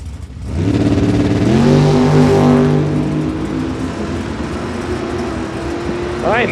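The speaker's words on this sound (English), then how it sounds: "Ron Manley out of Fairfield, California, going against the Camaro over there in the O'Reilly lane." Drag racing cars, one a Camaro, launching from the line at a California drag strip, their engines rising in pitch as they accelerate away with a loud rev, while an announcer talks over the action.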